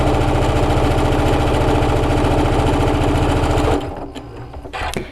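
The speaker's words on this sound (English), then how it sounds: "So essentially, I'm going to chain stitch, but I'm going to chain stitch seam." A serger sewing machine chain stitching a seam on a homemade face mask, running fast and steady with a dense rapid mechanical rattle at close range, then stopping abruptly, followed by a few light handling clicks.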